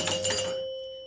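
The knocker on an Abra Ca Dabra pinball machine under repair fires once with a sharp, loud metallic clank that rings briefly and then fades to a quiet hum.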